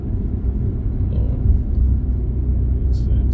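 Steady low engine rumble from a 520-horsepower car cruising on a cold -15°C day, heard from inside the cabin as a continuous drone with no break.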